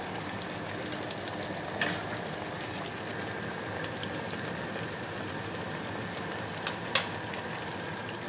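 Coated chicken pieces fry in hot oil with a steady, dense crackling sizzle that holds even throughout, broken by a couple of brief louder pops or clatters.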